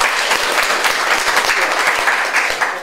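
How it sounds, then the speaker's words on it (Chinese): An audience at a human rights talk claps steadily to welcome a speaker, a dense and even round of applause from a close crowd. "所以我们就以热烈掌声欢迎"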